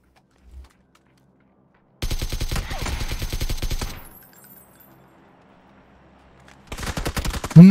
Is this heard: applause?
no